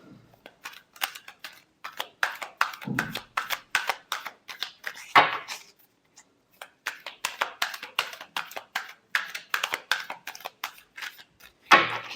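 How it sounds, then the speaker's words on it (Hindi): Tarot cards shuffled by hand for a weekly Gemini horoscope reading: a long run of crisp, rapid riffling bursts in uneven rhythm, close and fairly quiet, with brief pauses between passes. "Last shuffle."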